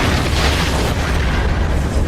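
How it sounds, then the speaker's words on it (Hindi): The 1986 Chernobyl nuclear power plant explosion: a loud, sustained deep boom with a rumbling roar that fills the whole stretch, heavy and close, with no voices. "उस रात ठीक 1:23 पर एक धमाका हुआ।"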